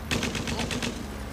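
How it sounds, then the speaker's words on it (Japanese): Anime machine gun fire from an aircraft gun in a 1991 rock-band animated film, a rapid burst of about seven evenly spaced shots, close and sharp, lasting under a second before fading. "この機銃が使えれば。"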